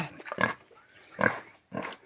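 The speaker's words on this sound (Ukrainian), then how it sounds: "Ух ти моя, свинка ти моя." A pig on a village farm grunts three times in short, close bursts, the grunts fairly loud with brief quiet gaps between them.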